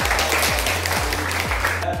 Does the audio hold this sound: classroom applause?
yes